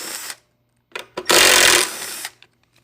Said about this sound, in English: It's a 5/16 bolt. You use a 5/16 nut set like I'm doing.